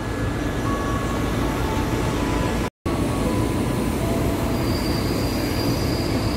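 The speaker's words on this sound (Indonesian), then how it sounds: "Jalur 3 akan melintas kereta api langsung" A non-stopping train rumbles steadily through a station platform at close range, loud and continuous, with a faint high squeal of wheels and a momentary dropout partway through.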